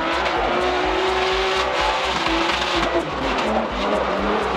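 BMW E36 M3 race car with a naturally aspirated inline six, drifting at a speed festival event, engine droning loudly and steadily with tire squeal running through it, with crowd ambience behind.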